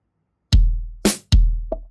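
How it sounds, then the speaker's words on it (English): An Amapiano percussion loop with a deep kick drum: two booming low kicks with a sharp bright hit between them and a short tonal knock at the end, punchy and close. "The percussion loop and the kick sounds like this."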